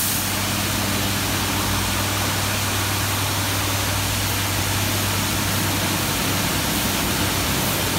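A car wash blaster arch fires water at about 1,000 pounds of pressure onto a vehicle, giving a loud, continuous hissing roar that holds steady throughout with no gaps.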